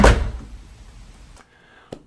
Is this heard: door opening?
yes